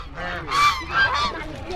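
Ducks at the Kathgola grounds in Murshidabad give a few loud, nasal honks in quick succession, fairly close, over faint background murmur.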